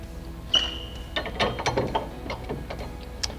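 Lockable pin sliding in and clicking into place to secure a Fastway FLASH ball mount in a hitch receiver, giving a close run of short metallic ratcheting clicks and rattles with a brief scraping slide at the start.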